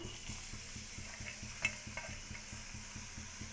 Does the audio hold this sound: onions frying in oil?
yes